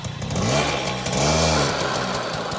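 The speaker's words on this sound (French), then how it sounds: "un petit coup d'accélérateur" A restored Motobécane 50v moped engine is revved with the throttle, climbing and dropping twice in quick succession: a close, buzzing two-stroke whine swelling under each blip and then settling back.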